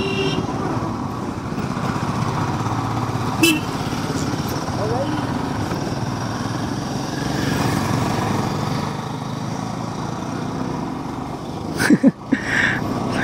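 A motorcycle rides along a mountain road in Sonmarg, its engine a steady drone with wind rush throughout, plus a couple of brief knocks near the end.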